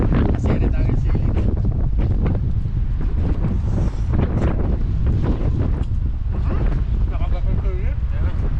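Strong wind roars across the microphone at sea on a fishing boat, a loud, steady buffeting rush throughout, with someone talking over it.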